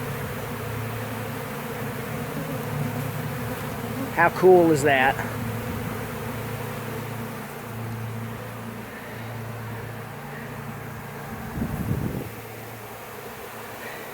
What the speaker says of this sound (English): the sound of the bees